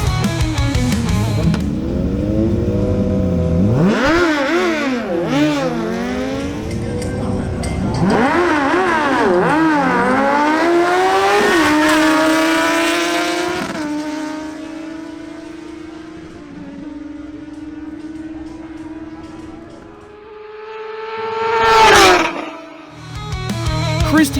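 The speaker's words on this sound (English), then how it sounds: "Next, we have Christian Alcala on his Suzuki GSX-S750 against Martin Correa on his Kawasaki Ninja Z1000SX." A Suzuki GSX-S750 and a Kawasaki Ninja Z1000SX drag race, engines revving hard through rising gear-by-gear sweeps, loud and close, then settling into a steady drone before a brief burst of wind noise near the end.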